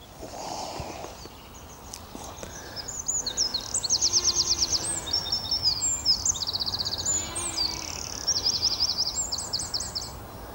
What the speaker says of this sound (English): And there goes the green woodpecker again.